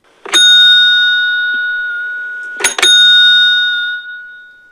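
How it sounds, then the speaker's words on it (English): A two-tone doorbell chime rings out clearly, followed by a second ring a couple of seconds later, each tone lingering as it decays. "heads up to the front door and rings the bell"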